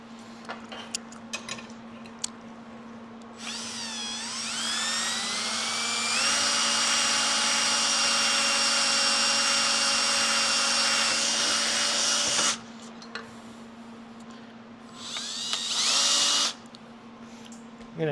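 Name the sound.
hand drilling out a hole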